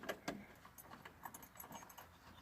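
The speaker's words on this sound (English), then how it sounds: "I wonder if these are the keys." A set of keys jangles in a series of bright metallic clinks and shakes, close and fairly loud, with no talking, while someone sorts through keys for a 1970 Chevrolet C10 pickup.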